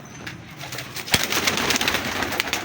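Large breeder pigeons coo softly in a low, throaty rhythm, with a few close, sharp rustles and taps mixed in.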